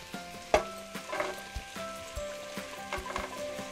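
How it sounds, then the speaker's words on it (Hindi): Potatoes tipped into a hot pan of capsicum and mixed vegetables, crackling and sizzling steadily with sharp clinks and scraping stirs of a utensil, close and moderately loud. "अब आइए इसमें हम आलू डालते हैं"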